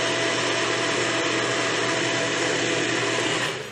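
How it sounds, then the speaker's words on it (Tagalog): A blender runs steadily making a melon shake, a loud continuous whir from start to finish that cuts off at the very end, with no talk over it. "Mas maingay na po yung blender kaysa sa akin."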